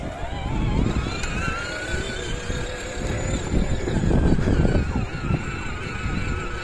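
A car engine revs under a learner driver's foot on the gas pedal, a close, rising and falling engine drone with fluctuating pitch lasting several seconds.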